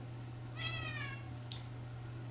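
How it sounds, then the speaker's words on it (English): A house cat lets out one clear, drawn-out meow at close range, followed by a faint short chirp, over a steady low hum. "My cat is Mouthy."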